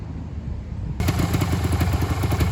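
A rare two-stroke trail bike, just kick-started from cold without choke, idles close by with a rapid, even popping beat that grows louder partway through, with no talking.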